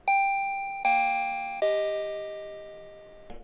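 A motion sensor alarm for detecting passing pests on a farm or homestead sounds a three-note descending doorbell-style chime, each tone ringing and decaying, the last held longer, clear and alone.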